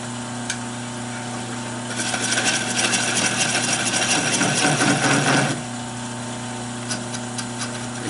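Wood lathe turning an oak bowl with a 3/8 gouge: a steady machine hum carries a louder, scraping cutting burst of about three and a half seconds in the middle, then settles back to the quieter running drone.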